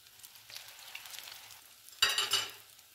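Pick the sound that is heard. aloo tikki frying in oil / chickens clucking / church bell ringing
aloo tikki frying in oil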